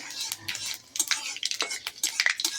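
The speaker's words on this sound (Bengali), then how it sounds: "এবার আমি দিয়ে দিচ্ছি ফোড়নে পাঁচফোড়নটা দিয়ে নেড়ে চেড়ে" Panch phoron spices being stirred in hot oil in a pan, a quick irregular run of close metallic scrapes and clinks from the spoon with a faint crackle underneath.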